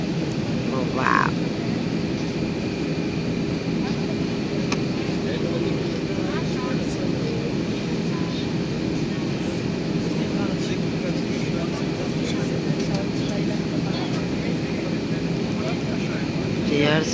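Steady broadband roar of an airplane cabin in flight, a continuous engine and air hum heard from inside, unchanging in level for the whole stretch with faint scattered cabin noises.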